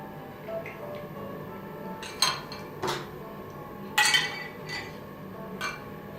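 A metal scoop clinks several times against a dish while tofu is served at a Japanese meal: scattered bright taps and scrapes, moderately close, over a quiet room background.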